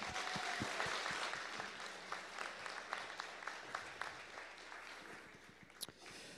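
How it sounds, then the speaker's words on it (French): An annual general meeting audience claps for a credit union's management, a soft, distant patter of many hands with a few sharper claps standing out, thinning toward the end. "Une grosse main d'applaudissements."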